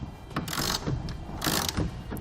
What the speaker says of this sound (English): we'll grab our 1/2-inch socket and tighten it all the way.